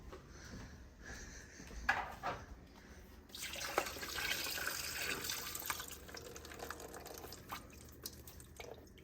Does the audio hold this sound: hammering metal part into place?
no